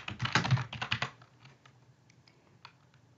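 Someone enters a name into an online government petition form on a computer keyboard. A quick burst of close key clicks is followed by a few scattered, fainter taps as the typing trails off.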